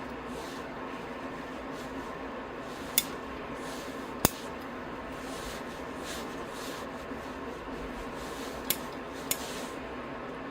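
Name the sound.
trimming giant sequoia bonsai roots and branches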